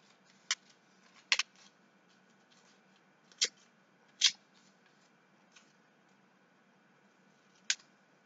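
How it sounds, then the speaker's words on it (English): Scissors snip paper for a small recycled book, five or six short, crisp cuts spaced irregularly over a quiet, faint background. "I'm going to cut it out."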